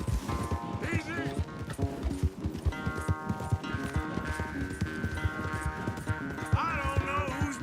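A horse gallops in a race in Red Dead Redemption II, with rapid, steady hoofbeats pounding close and loud under a musical score, and voices faintly mixed in.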